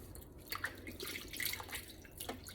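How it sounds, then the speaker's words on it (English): Pork roast being washed by hand in a bowl of hot water for tamales: soft close splashes and drips of water, irregular and fairly quiet, with no talking. "I already put some hot water in the bowl, so I gotta wash it really good."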